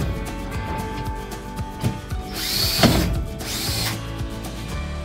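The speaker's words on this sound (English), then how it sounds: "I'm going to drill out those back holes." A power drill whirs in short bursts, drilling holes for a fridge slide install, with ratcheting mechanical clicks and a louder grinding stretch in the middle, fairly close.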